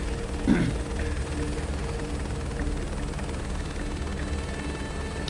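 Continuous steady rotor and engine drone of a helicopter flying in Microsoft Flight Simulator 2024, with a faint whine on top and a brief bump near the start, no talk.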